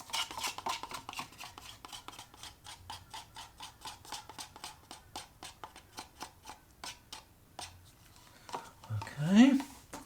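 A metal spoon scrapes and taps against a cup, scooping out leftover acrylic pour paint in a long run of quick, regular clicks and scrapes, close and fairly quiet, ending in a louder knock.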